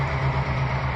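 A locomotive in the Trainz 2019 rail simulator throttles up, a steady, close diesel drone with a strong low hum that holds evenly through one brief second.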